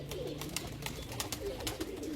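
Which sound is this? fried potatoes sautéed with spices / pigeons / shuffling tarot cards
pigeons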